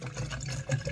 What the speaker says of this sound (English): we're going to bang a bit of water in here anyway and get started